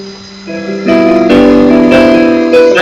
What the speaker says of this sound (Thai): เสียงนี้คือเสียงของปิโน